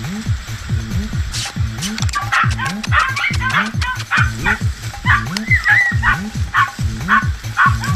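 Pack of podenco hunting dogs barking and yelping rapidly and continuously while chasing rabbits outdoors, close and loud, with occasional whines and someone shouting encouragement over them.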